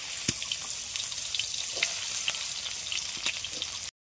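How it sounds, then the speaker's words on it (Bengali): Sliced bitter gourd fries in hot oil in a village kitchen for a Bengali shukto, a steady dense hiss with scattered sharp crackles and pops, close and unbroken until it cuts off abruptly near the end. "উচ্ছেটা ভেজে নেবো লাল করে"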